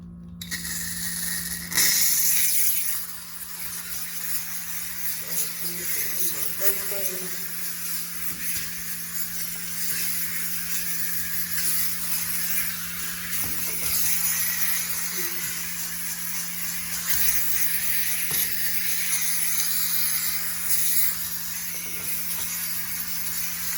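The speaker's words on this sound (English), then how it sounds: "that's where the steam comes into play if it's really dirty" A steam cleaner hisses steadily while detailing a dirty car, a constant close hiss over a low mechanical hum that runs the whole time without a break.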